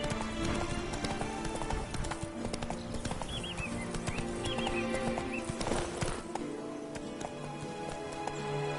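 Hooves of Roach, the horse in The Witcher 3: Blood and Wine, clop in a steady gallop amid a busy game soundscape, with a brief whinny and faint chirps along the way.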